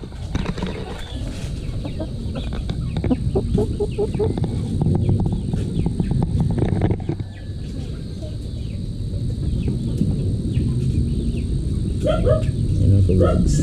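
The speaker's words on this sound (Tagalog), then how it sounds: "malamang nakita mo na itong mga manok na to" Chickens cluck and murmur close by in a yard, a steady stream of short calls with some louder bursts, while someone talks over them throughout.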